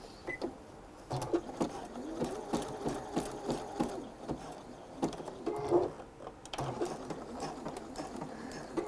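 A domestic sewing machine runs a zigzag stitch over elastic, sewing back and forth in a steady mechanical whir with repeated rapid needle ticks, pausing briefly near the middle before starting again, close and clear.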